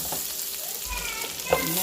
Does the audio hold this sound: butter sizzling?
yes